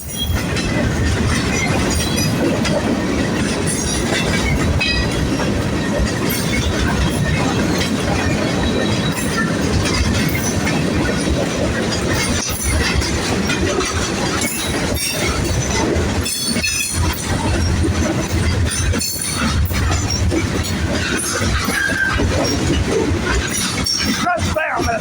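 Northbound manifest freight on the Galveston Sub, led by an SD70ACE and an AC4400, rolling past loud and close with continuous wheel rumble, rhythmic clickety-clack and occasional squeal.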